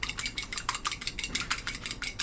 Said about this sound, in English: I'm just whisking the egg